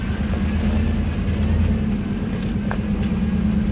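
A Cummins-engined Nissan Patrol 4x4 crawls up a slippery dirt track, its diesel engine holding a steady, deep low-revving drone, loud and close throughout.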